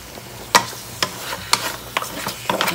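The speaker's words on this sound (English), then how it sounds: "Let it fry in the oil and tomato paste once I coat it with it." Oxtail is stirred in hot oil and tomato paste in a pot, giving a soft sizzle beneath sharp scrapes and knocks of the spoon about every half second, close and without talk.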